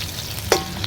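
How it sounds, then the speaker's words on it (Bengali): Potatoes fry in a pan over a wood-fired stove: a brief, soft sizzle with one quick stir of the pan. "এখানে আলু ভাজা হচ্ছে,"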